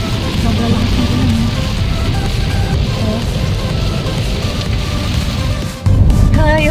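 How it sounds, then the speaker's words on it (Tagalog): Heavy rain pours in a dense, constant loud roar, close and unbroken, with a brief dip before it surges again. "Sobrang lakas na ulan."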